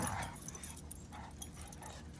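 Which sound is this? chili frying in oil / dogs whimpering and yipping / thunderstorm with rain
dogs whimpering and yipping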